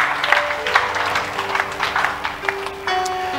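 A church congregation claps during a live Sunday service, a lively burst of many hands with some rhythmic peaks, heard with tonal background sounds and no clear talk over it.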